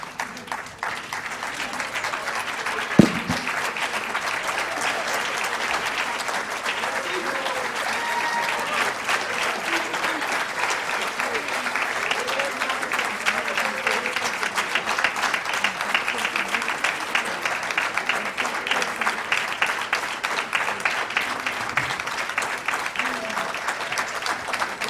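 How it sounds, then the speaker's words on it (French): An audience applauds students of the collège Elisabeth Badinter at a civic prize ceremony, sustained dense clapping filling the room from start to finish, with a brief louder knock early on. "pour les applaudir."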